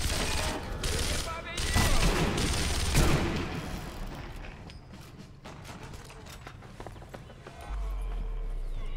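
Gunfire from the wartime sniper game Sniper Elite V2: a rapid burst of loud shots and rattling bursts, easing into scattered pops and impacts, with a deep rumble rising near the end and a voice talking in places.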